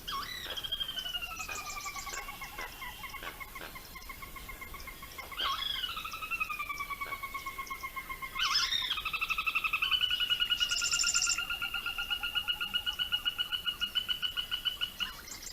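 Wetland wildlife chorus: long, sliding whistled bird calls repeat over a continuous pulsing insect and frog trill, with short sharp chirps scattered through and the sound building slightly louder toward the end.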